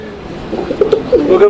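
Pigeons at a pigeon farm in Mirpur, Dhaka, give a few soft, close coos in a short rising series against quiet background murmur.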